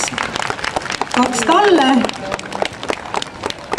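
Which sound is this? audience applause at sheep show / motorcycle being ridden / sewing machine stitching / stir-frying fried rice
audience applause at sheep show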